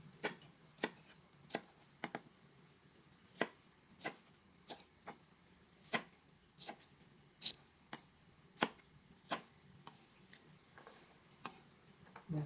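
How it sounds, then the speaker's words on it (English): Knife chopping asparagus diagonally on a cutting board in a home kitchen, with about twenty sharp, evenly spaced cuts ringing out alone at a steady, unhurried rhythm, close and clear against a quiet background. "We're going to cut the what's that, asparagus in a diagonal"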